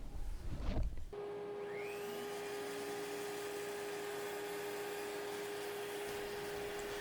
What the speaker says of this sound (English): this is the Flex Shaft Grinder Carver from Harbor Freight, item number 40432